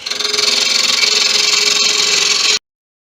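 A wood lathe spins a blank while a tool faces off the end grain, making a steady, loud rasping whir with a fast rhythmic flutter that continues unbroken, then stops abruptly.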